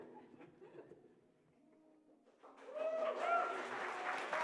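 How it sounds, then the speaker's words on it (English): Applause breaks out for a team at a film and multimedia tech hackathon in Jõhvi, swelling from faint murmuring into sustained clapping from a crowd in a hall. "let them take some applause"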